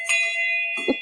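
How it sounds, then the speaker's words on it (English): A small bell is struck once, giving a bright ringing tone that sustains and slowly fades, ending with a soft knock. "Every time we use the word synergy, we ring the bell?"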